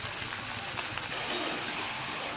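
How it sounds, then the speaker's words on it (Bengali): Spice paste, tomato and turmeric frying in hot oil for a Bengali jackfruit and potato curry, giving a steady hissing sizzle that stays even throughout with a slight crackle. "আমি ভালো করে কষিয়ে নেব।"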